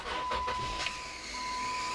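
A 2012 Jeep Wrangler engine cranks and catches, a short churn of starting noise followed by a thin, steady high whine that persists over the idle.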